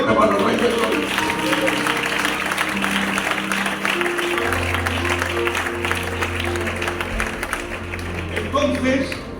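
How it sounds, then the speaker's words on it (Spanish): Loud applause from a church congregation during a sermon, dense clapping sustained throughout with sustained tones and voices running underneath. "Dan un aplauso fuerte para los reyes de Gloria."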